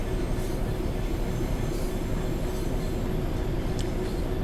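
A rail head treatment train in a train simulator runs along the Birmingham Cross City line, a steady loud rumble of wheels on track with faint squeals and occasional clicks.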